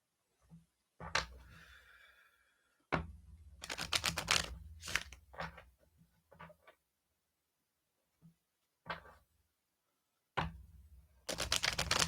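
Bursts of cards being riffled and shuffled, crisp papery flutters in several separate rounds with quiet pauses between, close up.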